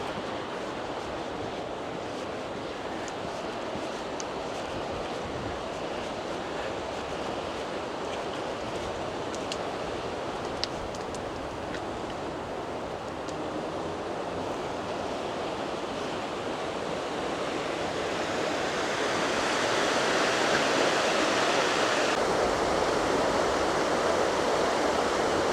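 A river rushes beneath a new footbridge on a walk along the northern reaches of the Lancaster Canal, a steady broadband roar of flowing water that grows louder and fuller toward the end, with no talk.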